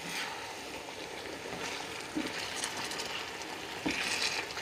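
Chicken leg pieces simmering in a pan with a little added water over low to medium gas flame, a soft steady sizzle and bubbling with occasional faint stirring clinks.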